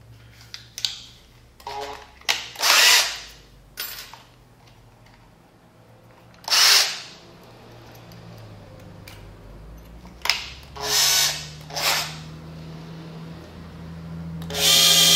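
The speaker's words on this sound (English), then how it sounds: "now we need to take a little bit bigger drill bit, one that's just a smidge, about the same size as our little rod there" A power drill fitted with a slightly larger bit drills in several short, loud bursts separated by quiet pauses, with a faint steady hum underneath.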